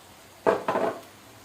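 Ivy gourd pieces are stirred in a pan, two short clattering scrapes of utensil against metal with a lid knock, fairly close and alone in a quiet kitchen.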